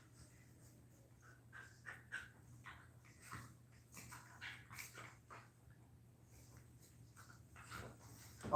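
Several dogs, black-and-white chihuahuas and a brown-and-white pit bull, scuffle together in a quiet room, giving off soft whimpers, pants and short yips that rise and fall over a steady low hum.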